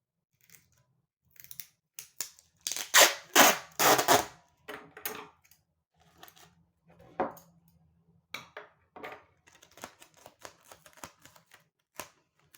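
Scissors snip through clear adhesive tape while trimming the edges of a handmade tape money envelope, producing a burst of quick cuts followed by scattered lighter snips and rustles, close and alone.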